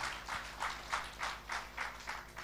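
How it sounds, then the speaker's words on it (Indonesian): A church congregation claps at a Sunday service, a faint, distant wash of applause swelling and fading in a steady rhythmic pulse of about six waves. "Berikan tepuk tangan."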